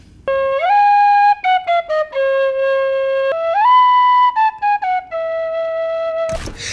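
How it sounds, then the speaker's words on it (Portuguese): A 3D-printed Irish flute plays a clear, breathy melody of sustained and quickly tongued notes, sliding between pitches, alone and close, ending with a burst of noise. "Essa aqui é uma flauta irlandesa."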